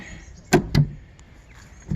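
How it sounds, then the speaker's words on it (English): A chicken coop door worked by a cable and a small pulley gives two quick, fairly loud clunks about a quarter second apart, with a faint rattle after and quiet background otherwise. "The door right now, until I get an automatic, just opens and closes with this cable, a little pulley in there."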